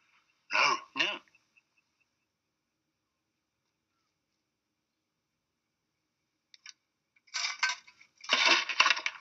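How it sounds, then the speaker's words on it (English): A couple of short, sharp coughs near the start, then silence, followed by a few more muffled bursts of coughing or throat noises toward the end. "Did you hear a cough?"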